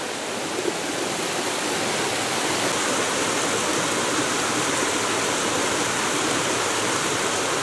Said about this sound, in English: So I am now crossing over the River Wear